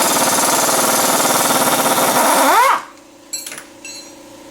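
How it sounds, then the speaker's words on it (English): A 17mm impact gun rattles hard and fast on a ball joint pinch bolt of a first-generation Nissan Murano, then winds down and stops, followed by a couple of faint metallic clinks. "a 17mm impact gun, you can go ahead and remove the pinch bolt off of the ball joint"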